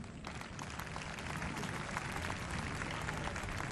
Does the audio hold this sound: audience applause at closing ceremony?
yes